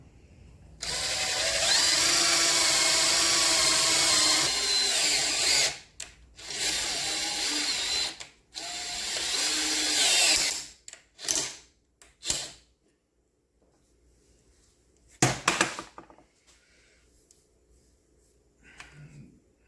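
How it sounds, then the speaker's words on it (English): Impact driver driving a bigger bolt into a Trybe rifle chassis being converted to a folding stock: several long loud buzzing, rattling bursts, then short stop-start pulses and a last brief burst amid quiet gaps. "I got even a bigger bolt that I'll impact on and drive it"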